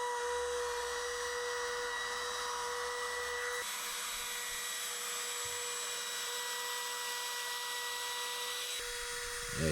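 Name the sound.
router cutting pine wood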